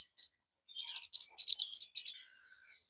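Local-breed lovebirds, a male and a female, giving close, high, rapid chirps and twitters in short clustered bursts, clear against a quiet background.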